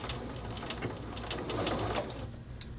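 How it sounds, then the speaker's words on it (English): A sewing machine stitching a shirt seam forward and then backstitching, a steady, close mechanical whir with fast rhythmic needle ticking throughout. "Sew forward, backstitch."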